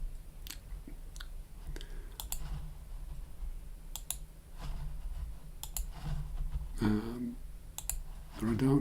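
Sharp, sparse computer mouse clicks sound close by, in ones and quick pairs, while a voice speaks intermittently over them.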